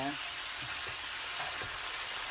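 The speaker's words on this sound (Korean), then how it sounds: "이렇게 이제 모든 것이 다 됐을 때 얘들을 뒤섞어 줄게요. 자, 신나게 볶아 주겠습니다." Japchae vegetables stir-fried in a hot pan give a loud, steady sizzle, with quick scraping and tossing strokes running through it and no talking.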